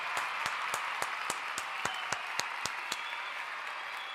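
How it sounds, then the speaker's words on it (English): Rhythmic clapping from an audience, evenly spaced sharp claps about every quarter second over a steady crowd wash, carrying on for several seconds without speech. "You get another round of applause"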